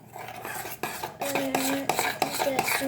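A utensil stirs crêpe batter in a bowl, scraping and clinking against the sides in quick irregular strokes, close and clear with no talking.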